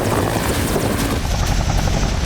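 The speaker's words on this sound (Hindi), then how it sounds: "चिनूक हेलीकॉप्टर लगातार चक्कर लगा रहा है।" A Chinook helicopter circling overhead during a cloudburst rescue operation, its dense rotor thudding and engine roar loud and continuous, close and steady with no voices.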